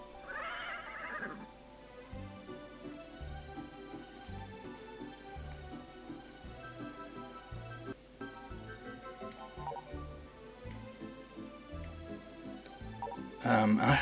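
A horse in a video game horse race whinnies loudly near the start and again at the end, over looping game music with a steady, repeating rhythm.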